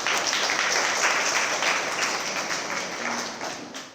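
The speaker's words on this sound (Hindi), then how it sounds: "बहुत बहुत ज़ोरदार ताली आप सबकी।" An audience claps loudly and densely, a full wash of applause that holds strong and then gradually thins toward the end.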